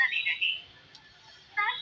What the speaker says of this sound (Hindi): डीएम साहब के नंबर पे घंटी जा रही है।